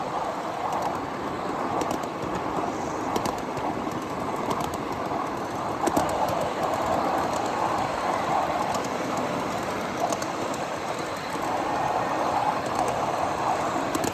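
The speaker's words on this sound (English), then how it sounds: "You hear all kind of train noises going on" Miniature railway trains roll along track at the Train Mountain Triennial on an evening run, giving a continuous rumbling, clattering wheel noise with faint clicks and birds in the background.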